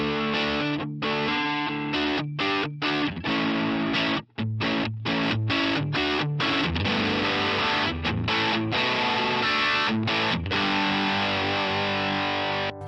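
Electric guitar through a Vox Joe Satriani Satchurator distortion pedal, thick chunky rhythm chords with short rhythmic stops and gaps, loud and continuous with no talking.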